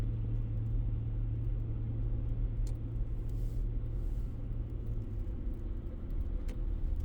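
A diesel pickup truck rumbles past with a steady low drone that holds at an even level throughout, close and continuous with no voices.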